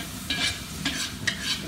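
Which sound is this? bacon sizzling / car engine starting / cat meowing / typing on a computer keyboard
bacon sizzling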